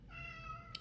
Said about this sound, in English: My cat is very vocal.